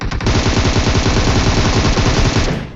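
Automatic gunfire in a battle royale video game, fired in a loud rapid burst of shots that lasts almost three seconds, close and with no talking.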